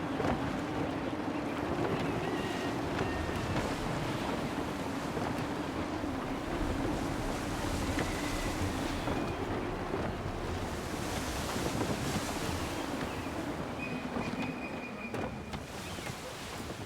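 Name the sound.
gusty wind and ocean waves in video game Assassin's Creed III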